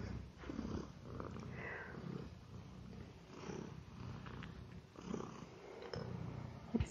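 A cat purrs softly and continuously, a low rumbling drone close to the listener with faint rustling during a quiet indoor moment.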